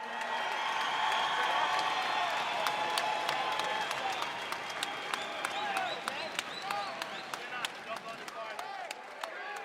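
A large crowd at an AFC 36 mixed martial arts event applauds steadily for a defeated heavyweight fighter after a brutal knockout, sustained clapping and cheering filling the arena, with sharp individual claps standing out near the end.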